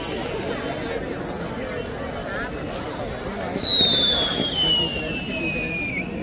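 Fireworks at the Dadar fire show festival, a whistling rocket streaking upward and popping bursts heard at a distance over a thick, chattering crowd and nearby voices.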